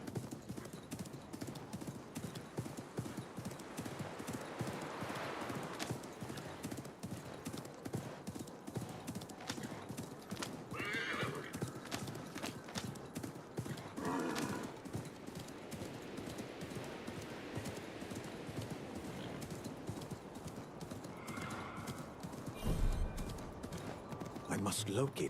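A horse in the Assassin's Creed Mirage video game trots with steady, rapid clip-clop hoofbeats throughout, an occasional neigh rising above the hooves, and a player's voice speaks intermittently.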